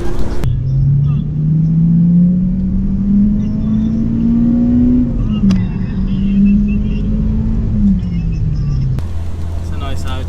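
A tuned Audi A3 1.8T pulls hard in a wet-road race against a Honda Civic Type R, its loud engine note climbing steadily in pitch for several seconds before a gear change, with rumble throughout and voices over it.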